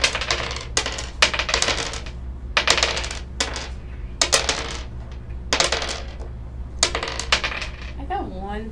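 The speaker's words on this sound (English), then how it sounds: "Take your die and just take one of them and drop it 6 times." Dice are dropped again and again onto a desk, giving a series of sharp, close clattering bursts, about a dozen in irregular rhythm.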